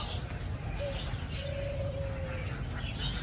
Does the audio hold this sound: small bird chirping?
yes